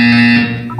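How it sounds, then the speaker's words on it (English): A loud, steady electronic buzz from a test chamber in the Portal 2 video game sounds for under a second, its tone holding flat before it tapers slightly at the end. "When you hear the buzzer, look down at the floor."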